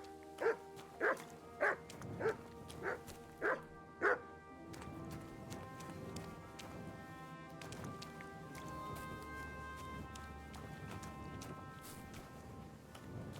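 A dog barks six times in quick succession in Kingdom Come: Deliverance II, sharp, close and evenly spaced, before a steady bed of game music and ambience carries on alone.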